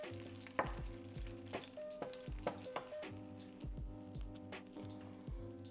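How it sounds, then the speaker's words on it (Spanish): Quiet, steady sizzling of oregano, cinnamon and cumin frying in lard, with occasional pops and light stirring scrapes, no talking. "Le agregué un poquito más de manteca para que se vaya friendo lo que es el orégano, la canela y el comino"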